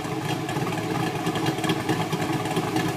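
Idling engine and exhaust of a 2011 Chevrolet Camaro Transformers Edition, a steady, loud, close rumble with slight uneven pulsing through the full three seconds and no voices.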